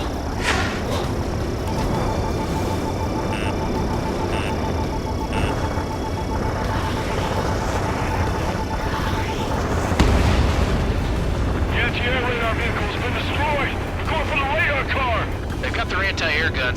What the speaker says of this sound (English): It's an air raid. We're being attacked by enemy aircraft.